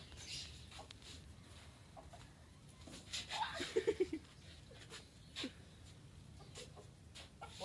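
A few soft clucks from a chicken, a short burst in the middle, over quiet outdoor background noise.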